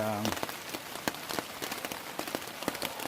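Rain falls steadily on a surface outdoors on the Appalachian Trail, with dense, close patter and scattered louder drops; a brief low tonal sound opens the stretch.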